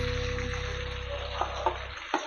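Ground masala stirred into softened eggplants in a hot pan, with steady low sizzling and a few soft scraping knocks near the end, close and alone.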